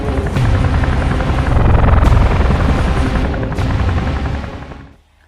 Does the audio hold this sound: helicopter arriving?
yes